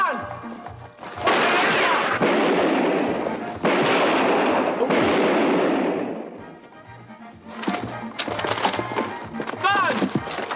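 Loud bursts of staged gunfire from squib effects during a movie-style police shootout, rapid cracks and crashing impacts in dense clusters, then a break and a further flurry of sharp shots, with voices underneath.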